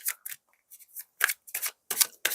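Tarot cards being shuffled in a series of short, crisp riffling bursts with brief pauses between them, close and fairly quiet with no talking.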